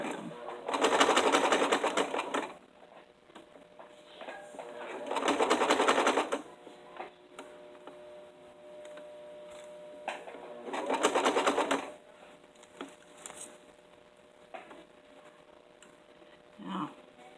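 A sewing machine stitches a dress bodice lining in several fast, loud bursts a few seconds long, separated by quieter pauses with faint handling noises.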